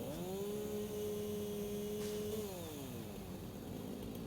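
Chainsaw in the video game Satisfactory revving at a steady whine, then winding down in pitch near the end, cutting biomass with no talk over it.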